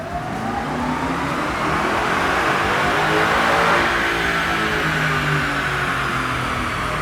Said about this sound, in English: Once you're in third, I'll tell you to floor it.